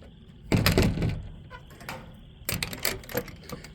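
Wooden chicken coop door being closed, a couple of close knocking thuds and rattling clatters, with a brief pause between bursts.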